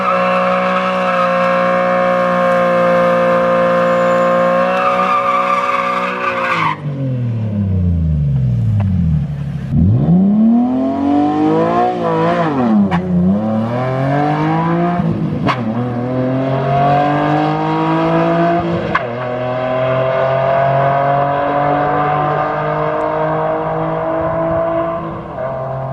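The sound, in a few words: drift car engine during drag race run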